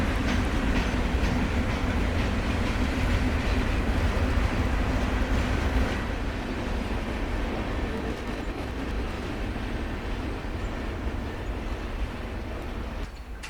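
A CSX freight train rumbles past close by near a canal at Lander, Maryland, a continuous heavy roll of wheels and clattering cars that eases slightly toward the end.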